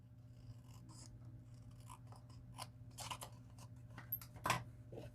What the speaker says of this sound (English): Trim along that fold line.